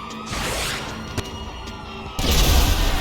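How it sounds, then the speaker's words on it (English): Top-down missile blast from an Iron Man mod in GTA 5: a loud sustained roar of impact and debris, then a sudden heavier boom near the end, with no talking. "Let's change it to top-down missile"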